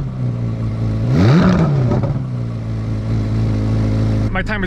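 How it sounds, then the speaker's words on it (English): A 2023 Corvette C8 Z06 engine revs up sharply once, rising in pitch, then settles into a steady idle hum; a brief whine near the end. "you put a little bit of pressure on that pedal and that RPM range just"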